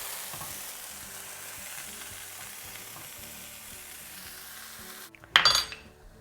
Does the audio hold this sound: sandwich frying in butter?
yes